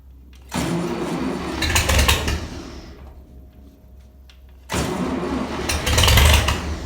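A 560 farm tractor engine being cranked twice, each attempt a loud rough churning burst lasting a few seconds, separated by a quieter pause with a faint whine, close by and with no talk.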